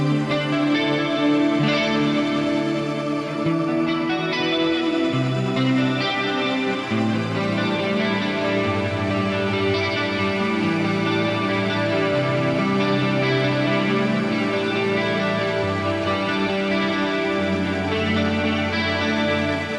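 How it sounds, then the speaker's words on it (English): An electric guitar runs through an FM3 MK2 Turbo with Aurora delay, flanger and Econo shimmer, playing a continuous lush, swirling ambient wash of sustained notes and chords with long trailing echoes, loud and steady throughout. "Let's just turn the Aurora delay on and the flanger together with that Econo shimmer."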